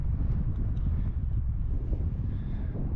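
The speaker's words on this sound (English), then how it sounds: "It's breezy up here." Steady wind buffets the microphone high on a mountainside above a lake during an elk hunt in Colorado, a continuous low rumble that stays loud and unbroken throughout with no other sounds.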